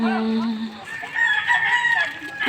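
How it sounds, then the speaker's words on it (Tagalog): Chickens and a rooster at a coop, with a loud crow rising and holding near the start, then overlapping crows and clucks from several birds nearby, continuous throughout. "Ayun manukan yan doon guys oh ang daming manok manok dyan"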